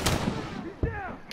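Gunfire in The Last of Us Remastered, a few sharp shots over a steady rumble of game noise, with a shouted voice and talk mixed in.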